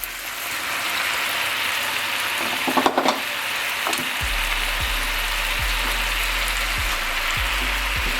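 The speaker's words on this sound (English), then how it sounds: "Now I'm gonna take some of this spinach and drop that in." Spinach dropped into a hot pan with garlic for Mediterranean chicken, a steady loud sizzle of frying that swells briefly as the leaves land and a few soft stirring knocks follow, close and with no voices.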